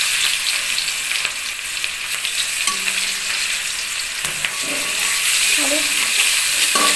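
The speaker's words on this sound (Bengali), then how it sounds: "পেঁয়াজ দিয়ে একটু নাড়াচাড়া করবো, পেঁয়াজটা একটু ভাজি হোক" Onions fry in oil with whole cumin while being stirred, giving a loud, continuous sizzle close by, with occasional soft scrapes of the spoon.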